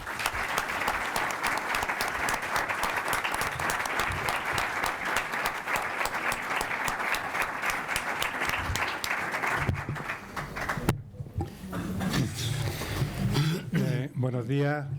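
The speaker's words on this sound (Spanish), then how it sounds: "Le invito a recibir a los 4 protagonistas de hoy con un cálido y merecido aplauso." An audience in a packed university hall applauds warmly, dense sustained clapping for about ten seconds before it stops abruptly and a voice begins speaking.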